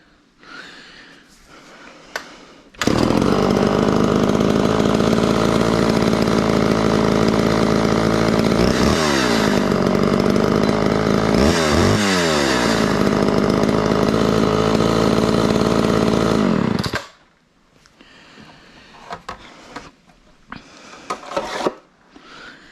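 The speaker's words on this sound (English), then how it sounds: "Now that's how you definitely start your antique chainsaw" A small two-stroke antique Homelite Super XL chainsaw roars loudly and steadily for about fourteen seconds with a couple of revving surges, then cuts off into quiet handling noises.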